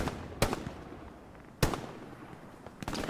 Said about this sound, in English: Draki's throwing out some grenades, drawing some machine gun fire from Baby Shark.